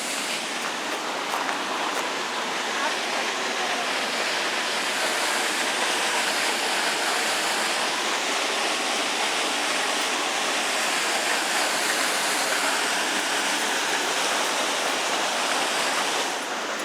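Fast-flowing water on the St. Joe River in St. Joseph County rushes as a dense, even roar that holds steady throughout with no voices.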